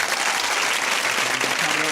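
An applause sound effect of a crowd clapping fills the whole short stretch, dense and steady at close range.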